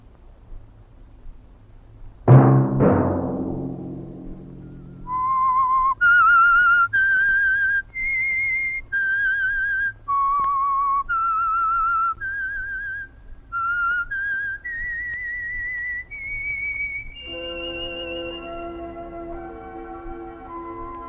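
A sharp knock rings out, then a clear whistled melody of sustained notes follows, steady and close, ending on a held, wavering tone.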